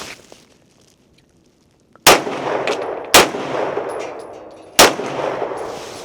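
Three loud, close pistol shots from a Beretta M9A1 during target practice, spaced a second or more apart, each a sharp crack trailing into a lingering echo, after a quiet stretch with no talking.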